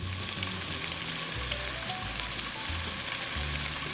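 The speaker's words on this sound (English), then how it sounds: "the first thing we're gonna do is cook all the meatballs" Korean-style meatballs crackle and sizzle in a hot pan, a dense close hiss running continuously alongside a low droning tone that shifts pitch in steps.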